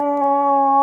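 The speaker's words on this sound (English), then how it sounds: "she squeaked that toy and just started howling" A dog howls in a sustained, steady tone, close and clear, after a squeaky toy sets it off, with no other sounds around it.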